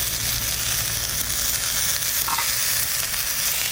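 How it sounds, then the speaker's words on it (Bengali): Leafy greens go into a pan of fried potatoes, and a dense, even sizzle of hot oil carries on close and loud without pause. "আলুটা ভাজা ভাজা হয়ে গেছে, এইবার ওই শাকটা দেবো।"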